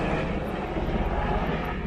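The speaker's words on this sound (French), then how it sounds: "Hélicoptère, hélicoptère." Helicopter passing overhead, a steady low droning engine roar with a faint pulsing rotor beat underneath, continuous and fairly loud with no voices.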